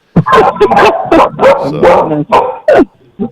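A dog in a studio barking in a quick run of sharp, loud yips and barks, close to the microphone with brief pauses between bursts.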